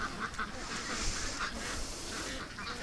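Ducks at a creek give several short, scattered quacks over a noisy outdoor background, with a faint voice now and then.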